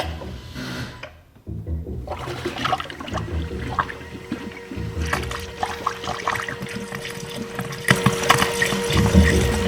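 Coolant pours and trickles into the main reservoir of a 2024 Mustang GT with a Stage 2 Whipple blower, a steady close watery gurgle and dribble that runs for about ten seconds and swells louder toward the end.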